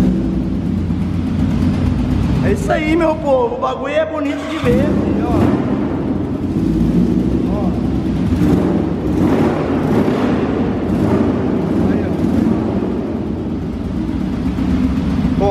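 A Honda FAN 600R motorcycle running with a 150 fuel tank fitted, its engine idling loudly and steadily up close throughout, with someone talking over it.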